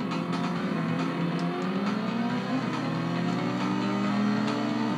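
An engine roars steadily with rising and falling pitch, a motorbike speeding along in Road Rash on the 3DO, loud and continuous throughout.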